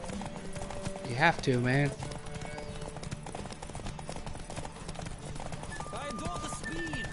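Hooves clip-clop in a steady rapid galloping rhythm as a horse races in The Witcher 3, a brief whinny rising early on, all under continuous close commentary from a man.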